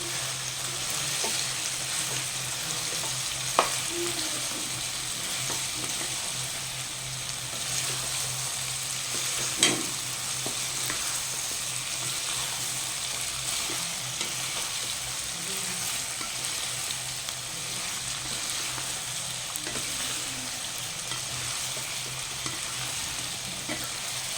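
Broiler chicken with turmeric being stirred and fried in a pan: a steady, close sizzle for the whole stretch, with a few sharp spoon clinks against the pan.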